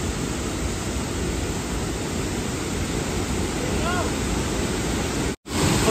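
Tirathgarh waterfall heard from below, a steady, loud, broadband roar of falling water that barely changes, with a brief dropout near the end and a voice mixed in faintly.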